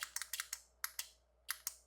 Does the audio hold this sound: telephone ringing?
no